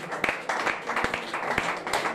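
A church congregation claps in praise, a dense patter of hands with a few sharper slaps, mixed with voices at a prayer service.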